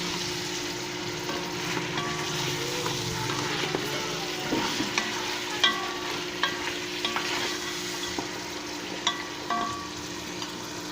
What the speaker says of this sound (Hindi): इसको अभी अच्छे से मैं इसको भूनूंगा लहसुन के साथ